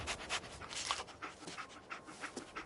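A dog pants in quick, rhythmic breathy bursts in the video game Fallout 4, close and fairly soft, with no talking.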